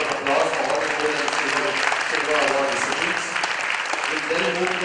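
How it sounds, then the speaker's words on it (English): Sustained applause from an awards-ceremony audience honouring Gold and Silver Award recipients, steady and dense for several seconds with some voices mixed in. "I think they deserve another round of applause for all the Gold and Silver Award recipients"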